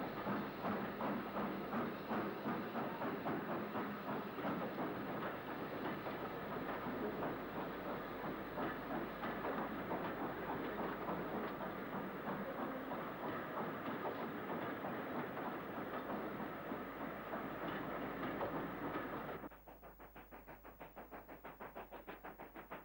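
Locomotive 45145 departs north with a through Paddington to Chester train past the LNWR Crewe Junction signal box, a steady, fairly faint rumble with clickety-clack wheels that suddenly drops to a quieter hiss near the end.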